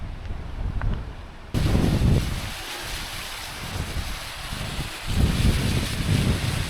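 Deep water rushing through a rocky gorge in the Yorkshire Dales, a broad continuous roar that swells after a couple of seconds, mixed with wind buffeting the microphone.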